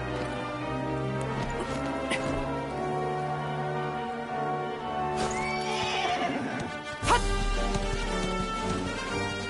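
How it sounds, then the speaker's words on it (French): Horse neighs and clip-clopping hooves in the video game Dragon Quest XI, a whinny rising midway over steady game music, followed by a low rumbling thud. "Ah, mon fidèle cheval."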